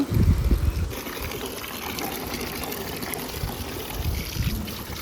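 Colocasia leaves for Tulu-style patrode are washed in water, with splashing and trickling close by, a few heavier sloshes at the start and end over a steady wet swish.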